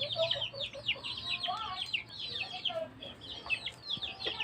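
A small flock of backyard chickens, including young roosters, clucks and chirps continuously at close range, with overlapping chatter and no pauses.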